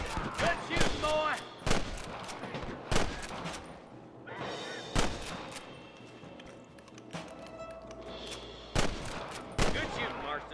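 Sharp gunshots in the western game Red Dead Redemption, a dozen or so loud cracks at irregular intervals, some close and some more distant, with character voices heard between the shots.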